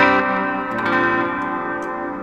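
A sustained electric guitar tone through a guitar pedal's room reverb rings out spaciously, slowly decaying, with faint clicks and no talking.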